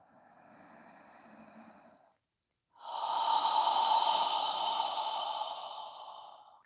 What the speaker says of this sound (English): go ahead and exhale through your mouth, squeezing out all of the air